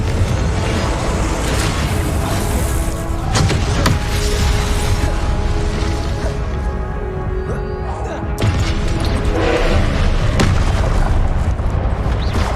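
Confringo blasting-spell explosions go off in a Hogwarts Legacy battle, with loud, booming blasts and thuds repeating over a constant dense roar of game effects and combat noise.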